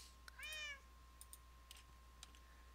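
A cat meows once in the Minecraft video game, a short rising and falling game-sound mew, followed by faint scattered keyboard clicks in an otherwise quiet stretch.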